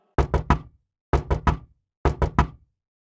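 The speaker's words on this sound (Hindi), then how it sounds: "उसे गेट बजाने की आवाज आती है" Knocking on a gate at night in a cartoon: three separate bursts of three sharp knocks each, loud and close, with silence between the groups.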